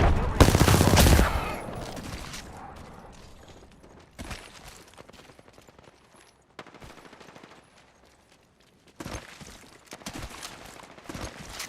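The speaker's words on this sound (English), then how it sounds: "Opening fire on the enemy." Gunfire in the video game Apex Legends: a dense, loud burst of rapid automatic fire at the start, followed by scattered quieter shots and clatter, with some faint voices in the background.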